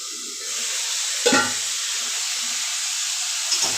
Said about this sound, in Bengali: লঙ্কা জিরে তো বেটে নিয়েছি, এর মধ্যে হলুদ দিয়ে দিচ্ছি পরিমাণ মতন।